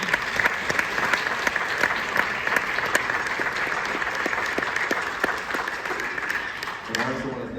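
Warm, sustained applause from a concert audience at a regional jazz band clinic and concert, dense clapping filling the room evenly for several seconds before tapering slightly at the end.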